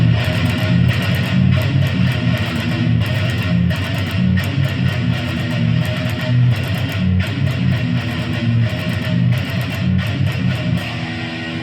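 Distorted electric guitar playing a song, dense chugging riffs and repeated figures at a steady driving pace, loud and close with no talking over it.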